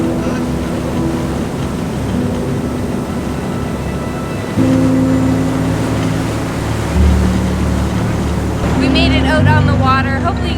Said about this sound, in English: The engines are pretty loud, but it's a pretty calm day